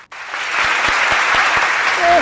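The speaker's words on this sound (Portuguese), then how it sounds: "E, Cadinho, uma salva de palmas para pessoas que denunciaram esses vendedores" Applause at an outdoor Independence Day parade crowd of thousands, a loud, dense wash of clapping that rises quickly after a brief pause and holds steady, with a voice briefly audible near the end.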